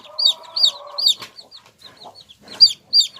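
Chickens cluck close by in short repeated bursts, a rhythmic run of calls with brief pauses between them.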